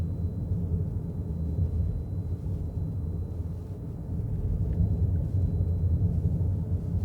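Inside a 2022 Toyota Corolla Cross Hybrid running in EV mode, a steady low rumble of tyres and road surface holds throughout, with a faint wash of wind outside the windows.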